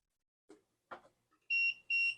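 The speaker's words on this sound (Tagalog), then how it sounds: "meron siyang warning or alarm na yun yung palatandaan na merong attempt ng intruder doon sa bahay mo." Two soft clicks from an Arduino Uno RFID door-security setup are followed by its buzzer giving two loud, piercing intruder-warning beeps close by.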